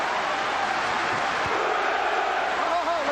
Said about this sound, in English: The applause is building.